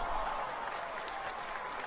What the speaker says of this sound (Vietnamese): Thì cũng có tiếng vỗ tay.